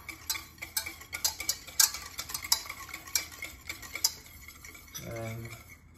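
Salt and mayonnaise ingredients mixed by hand in a bowl: a close, brisk run of sharp utensil clicks and taps against the bowl, ending in a short low hum.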